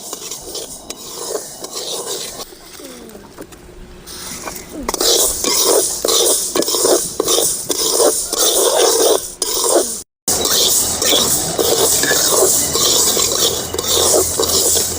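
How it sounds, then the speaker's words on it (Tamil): Moong dal (green gram) dry roasting in a pan, with steady scraping and stirring across dense gritty rustles, close and fairly loud, with a brief cut in the middle and no talking. "பாசி பயிறு இது அதே மாதிரி நல்லா கணக்காக வறுத்துக்கணும்."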